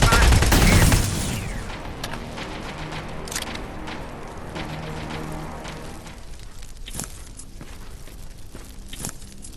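Gunfire from the shooter game Terminator Resistance opens with a loud burst of rapid shots, then scattered fainter shots and impacts continue behind a low rumble.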